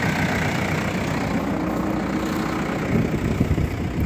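A tractor engine runs steadily while ploughing a field, a continuous low rumble that stays even and unbroken, with no voices over it.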